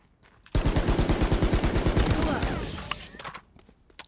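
Automatic gunfire in a shooter video game: one loud, rapid, sustained burst of shots lasting about three seconds, close up, followed by quieter game sounds.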